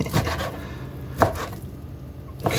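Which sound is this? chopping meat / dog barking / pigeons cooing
chopping meat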